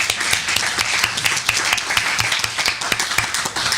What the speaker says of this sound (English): A round of applause for David.